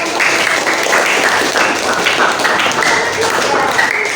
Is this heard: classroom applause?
yes